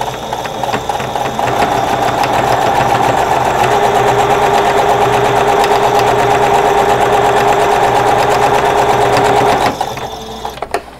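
A sewing machine runs steadily, stitching a fabric face mask with a pocket near the raw edge, giving a fast, even mechanical whir that holds for about nine seconds and then stops, followed by quieter handling.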